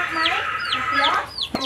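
Five hens and other chickens cluck and chatter continuously up close, several birds overlapping with short rising calls and a brief knock near the end.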